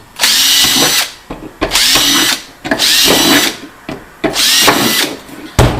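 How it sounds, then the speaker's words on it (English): A power drill whines loudly in four bursts, each lasting about a second, drilling 1/8-inch pilot holes with short pauses between holes. "I'm going to drill an 1/8 inch hole in each one of these dimple areas"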